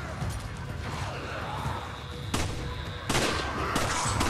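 Gunshots in Resident Evil 5, a few sharp cracks spaced unevenly over a busy game background of music and ambience, the later shots louder and closer.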